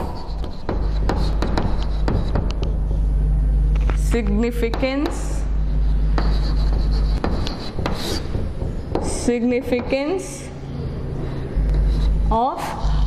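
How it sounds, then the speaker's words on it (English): Marker or chalk scratching and rubbing across a board during a chemistry lesson on chemical bonding, heard as intermittent strokes over a steady low room rumble, with a voice speaking in bursts. "I'll write here"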